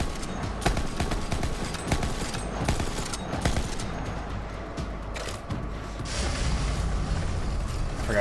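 Tap-fired gun in Borderlands 3, a steady stream of crackling shots and mechanical game effects mixed with the fight's din, fairly loud and continuous with a denser stretch toward the end.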